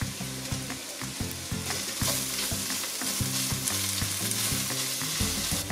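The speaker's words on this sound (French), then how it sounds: "je vais faire griller dans l'huile avec les oignons" Onions and spices, including a pinch of Espelette pepper, sizzle and crackle in hot oil in a pan for a bean stew, a dense steady frying hiss with occasional stirring clinks.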